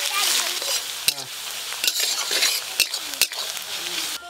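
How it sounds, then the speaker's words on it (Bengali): Chopped ginger and garlic frying in hot oil with bay leaf and dried red chili, a loud continuous sizzle broken by several sharp clinks and scrapes of a metal spatula against the pan. "আদা রসুন একটু ভালো করে ভেজে নিয়েছি।"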